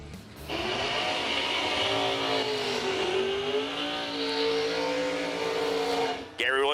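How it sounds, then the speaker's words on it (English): Drag racing dragsters launch down the track in a warm-up race, a loud, sustained engine roar that rises in pitch as they accelerate and then cuts off abruptly near the end. "our dragsters get things kicked off here for our Jegs 20K warm-up race"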